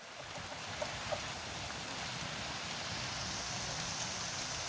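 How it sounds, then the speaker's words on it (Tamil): Steady rain hisses and patters throughout, a dense, even wash of drops with no talk over it, recorded outdoors where fish is being cooked. "மழையும் வருது எல்லாம்."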